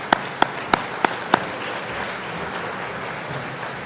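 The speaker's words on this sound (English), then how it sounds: "So please give another round of applause for everybody here." A crowd at a high school fundraising dinner applauds, several sharp, loud claps near the start rising out of a steady background of many people clapping that carries on for several seconds.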